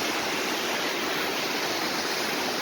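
Fast-flowing stream water rushing nearby outdoors, a dense, loud, unbroken roar of churning flow with no voices over it.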